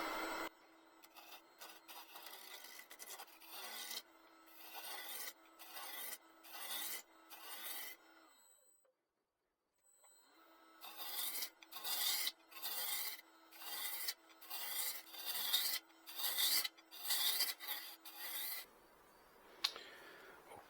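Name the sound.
spindle gouge turning end grain wooden bowl on lathe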